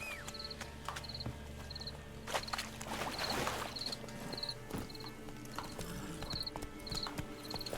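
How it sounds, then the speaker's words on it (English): Horse hooves clip-clopping in the video game Witcher 3, a steady rhythmic gallop in an outdoor game setting with faint ambient sound beneath and a brief whinny-like burst midway. "Call for the horse."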